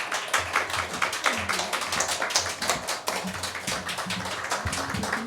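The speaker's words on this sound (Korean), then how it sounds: "박수를 드리겠습니다." A church congregation at a Sunday service applauds together for Mother's Day honorees, a close, lively patter of many hands clapping in an uneven rhythm that stays loud from start to finish.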